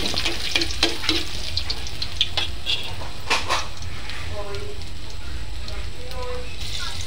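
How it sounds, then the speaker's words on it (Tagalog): Ginger sautéing in a pan of hot oil after tilapia has been fried, a steady loud sizzle with scattered clinks and scrapes of a utensil, close up. "Kapag natapos na tayo magprito, igisa na natin yung ating luya,"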